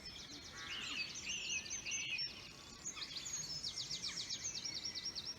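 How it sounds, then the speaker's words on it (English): A wren sings loudly nearby in a spring dawn chorus, with rapid, high trilling phrases that repeat in bursts over faint background birdsong. "behind you is one of our smallest birds, the wren, and it is very loud call for its song"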